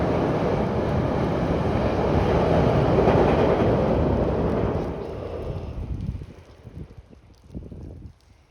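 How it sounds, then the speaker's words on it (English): A GO commuter train rumbles past nearby in Rouge Valley Park, a broad, steady roar and rail clatter that slowly fades away into quieter surroundings. "I know there's a GO train"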